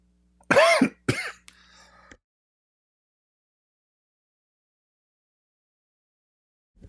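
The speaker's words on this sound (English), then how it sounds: "Sorry, I have to cough." Two sharp, loud throat-clearing coughs close up, followed by a faint rasp, then silence.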